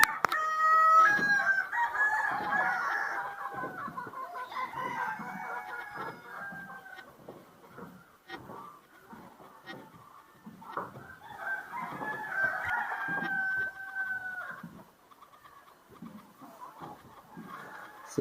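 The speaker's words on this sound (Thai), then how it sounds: "แต่ว่าเสียงไก่นี่ยังขันเลยเนาะ" A rooster crows in a rural village in Laos, loud and near at the start and again midway, with softer clucking and faint background clatter between the calls.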